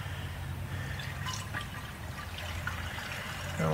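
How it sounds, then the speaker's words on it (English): Coolant poured into the radiator of a 2001 Ford Taurus during a radiator replacement, a steady liquid pour and trickle with no speech, holding fairly even and growing slightly louder near the end. "Now it's time to add the liquids."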